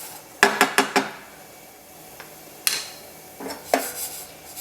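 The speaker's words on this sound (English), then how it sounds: "now cook the couscous for 2 to 3 minutes until pale golden, making sure to stir frequently or shake the pan frequently" Couscous toasting in butter in a pan, with a quick cluster of metallic clinks and scrapes from stirring up front, a quiet stretch, then more clatter as the pan is shaken, over a faint sizzle.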